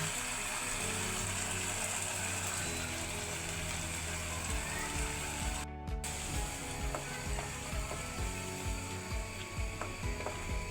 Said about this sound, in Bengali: মশলাগুলি কষানো হয়ে গেছে, এখন আমি বাটা মজকটা দিয়ে দিব।